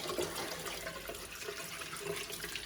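Steady running tap water pours into a sink while potatoes with their skins on are rinsed to wash off soil and dirt, a continuous soft splashing hiss throughout.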